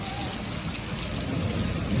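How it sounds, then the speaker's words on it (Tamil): Heavy rain pouring down on a small vegetable garden in France, a dense and continuous close hiss with no clear breaks and faint voices mixed in underneath. "திடீர் தான் மழை சூப்பராக இருக்குது நல்லா அடித்து விட்டுருது நல்ல மழை பெரிய பெரிய மழை"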